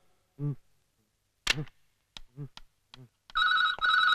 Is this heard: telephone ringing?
yes